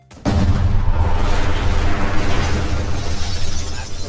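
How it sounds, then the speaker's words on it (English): A sudden loud explosion in a video game, a single booming blast that hits abruptly and rumbles on with dense debris-like noise for several seconds. "You gotta stop with the jump scare explosion"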